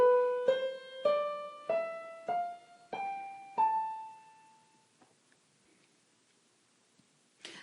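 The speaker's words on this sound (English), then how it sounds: "A natural minor scale will sound like this." An A natural minor scale played upward on the white notes, as single tones struck one after another at a steady pace, each ringing and fading, then silence and a faint click.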